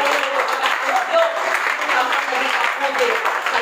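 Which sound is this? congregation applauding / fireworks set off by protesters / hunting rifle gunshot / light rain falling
congregation applauding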